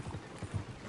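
Horse hooves clip-clopping in Red Dead Redemption 2, a short burst of several low, thudding steps in an uneven trot, fairly close, with no talk over them.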